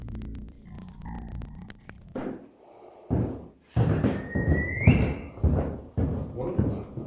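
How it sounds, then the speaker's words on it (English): Inside an abandoned asylum, a person whistles a short rising note that stands out above muffled voices, dull thumps and low rumbling in the room. "I was whistling"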